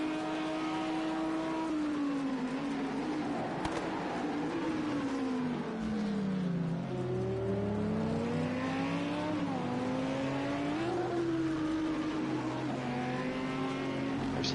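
A GT3 race car on the Nürburgring GP circuit roars loud and close at high revs, its engine note rising and dropping through gearshifts as it brakes hard and accelerates again, with no voices.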